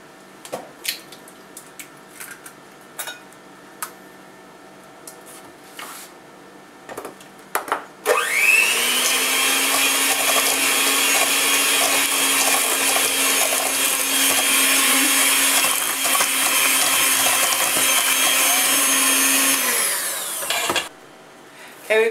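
Electric hand mixer beating eggs into creamed butter and sugar for a strawberry shortcake batter, starting abruptly after a few quiet kitchen knocks and whirring loud and steady for about thirteen seconds before cutting off.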